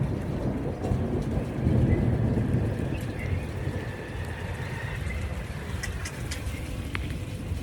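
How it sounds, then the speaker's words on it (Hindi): Steady rain pours down on a summer morning outdoors, with a deep rumble of thunder rolling beneath the constant hiss, near and fairly loud throughout. "बारिश हो रही है, पानी गिर रहा है सर पे"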